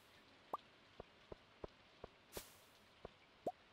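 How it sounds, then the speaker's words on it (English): Game rain from Stardew Valley, a soft steady hiss with scattered, evenly spaced plops and drips landing one by one, fairly faint and with no voices. "since it's raining today"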